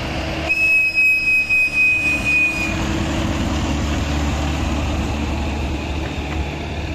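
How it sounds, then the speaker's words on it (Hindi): A toy train runs on its track at Bal Bhavan in Delhi, a steady low rumble of wheels with a brief high squeal early on, passing at moderate distance amid outdoor ambience. "ये देख रहे हैं ट्रैक अभी उस तरफ गई है, वो जा रही ट्रेन।"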